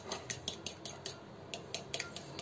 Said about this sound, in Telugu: ఈ విధంగా ఫోర్క్ తో గాని మనం ఇలాగ కంప్లీట్ గా బాగా మిక్స్ చేసుకోవాలి